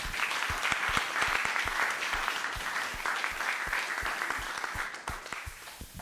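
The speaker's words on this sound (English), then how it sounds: "let's give them a round of applause." An audience at a summit gives sustained applause, a steady wash of many hands clapping at moderate distance, with a few sharper individual claps standing out throughout.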